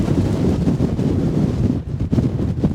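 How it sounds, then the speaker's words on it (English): Strong wind buffets the microphone in a steady, low rumbling roar with gusty fluctuations and no other clear sounds, on a hilltop near North Berwick, East Lothian, Scotland. "Oh, it's windy."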